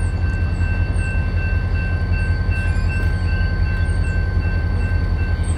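The CSX M426 freight train sits in Clinton, Massachusetts, its locomotive giving off a steady, loud rumble with a faint high tonal whine throughout and no talk.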